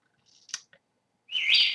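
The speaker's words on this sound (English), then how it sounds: "Bird noises all day long." Birds outdoors give a few short, sharp chirps followed by a brighter burst of tweeting, faint and intermittent against near silence.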